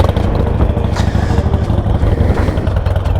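A Harley-Davidson motorcycle runs steadily close by, a low, continuous engine rumble with slight clattering texture and no clear revving or pauses.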